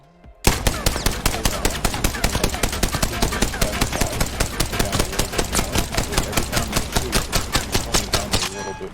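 Rampage light machine gun firing in the Apex Legends video game: after a brief pause, a loud, steady burst of rapid, evenly spaced shots runs almost nonstop to the end.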